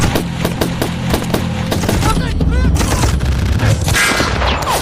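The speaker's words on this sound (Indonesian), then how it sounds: "Baku tembak pun sempat terjadi di antara keduanya." A film gunfight bursts with rapid, loud volleys of gunshots, overlapping shots and crackling fire in dense clusters, some sharp single cracks standing out, with no speech.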